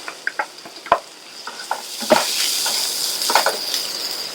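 Onion frying in oil with green chilies and asafoetida for masala kolukattai, a soft steady sizzle with scattered clicks and scrapes of stirring in the pan, no talking.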